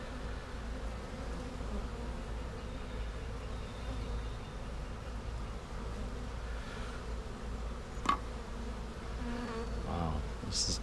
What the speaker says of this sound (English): there's so many bees here right now that it's really hard to get in here